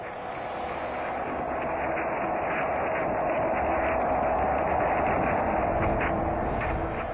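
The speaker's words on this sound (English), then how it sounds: "Picked up by the orbiting SOHO satellite, this is the sound of the sun." The sun, as picked up by the orbiting SOHO satellite, is rendered as a steady, dense rushing hiss and low rumble, uniform and unbroken throughout with no talking.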